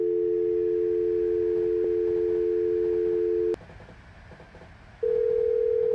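A steady telephone dial tone sounds in the SimRail train simulator, cut off briefly by a click as the handset is hung up, then returning at a different pitch, all without talk.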